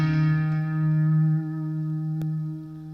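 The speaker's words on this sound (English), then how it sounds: "back over to delay, we had it set on tape echo" Sustained electric guitar chord through a Boss Katana MK2 amp with tape echo delay, ringing loud and steady with repeats washing into the decay, and a single short tap partway through.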